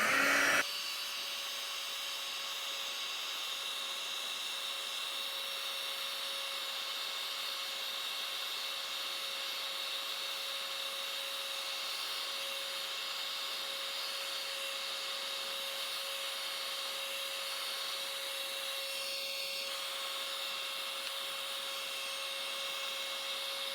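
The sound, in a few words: heat embossing tool melting embossing powder on a stamped piece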